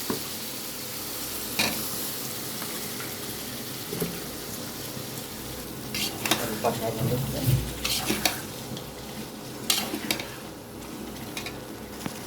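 Spice masala sautéing in a pan for a rohu fish curry, an ongoing sizzle broken by repeated spatula scrapes and clinks, busier toward the middle and end.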